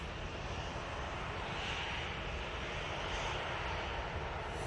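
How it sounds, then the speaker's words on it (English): An Aer Lingus airliner departs Manchester Airport bound for Dublin, its engines a steady, broad roar that holds level and fairly loud throughout, with no voices over it. "it is this Aer Lingus going back to Dublin out next"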